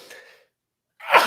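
A single loud, close human sneeze bursts out after a brief inhale and a moment of silence, standing alone without talk.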